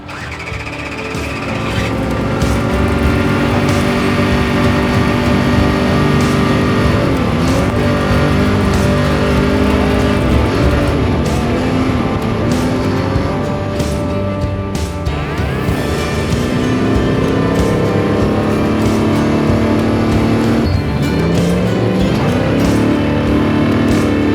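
A Baja 1000 race vehicle on a test run drives past close and loud, its engine droning steadily and rising and falling through revs and gear changes over rough ground for about twenty seconds.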